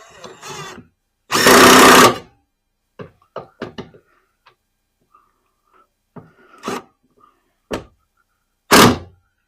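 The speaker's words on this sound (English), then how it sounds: "I'll run a couple screws in here to make sure it's not going to go anywhere." Screws are driven into an electrical box in brief loud bursts of powered driving, then a scatter of small knocks and taps, with a final short burst at the end.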